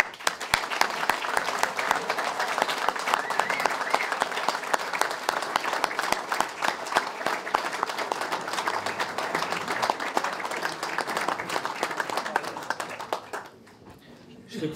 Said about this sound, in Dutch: En geef even toppers een groot applaus.